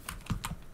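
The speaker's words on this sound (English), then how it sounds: "let's start typing a code" A few quick keystrokes on a computer keyboard, close and crisp, sounding as separate taps in a short burst with no talking.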